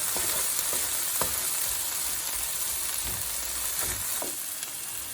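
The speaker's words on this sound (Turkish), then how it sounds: "Biraz da domateslerimiz kavrulsun." Tomatoes sizzling in a pan over fried tomato paste for a Turkish okra and meat stew, with a steady frying hiss and a few soft clicks of a spoon.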